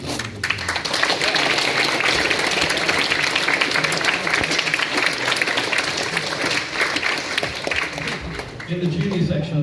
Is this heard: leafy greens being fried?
no